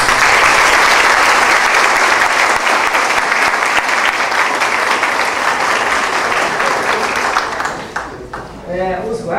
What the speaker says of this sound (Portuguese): Eu peço a chave de palmas para esses caras.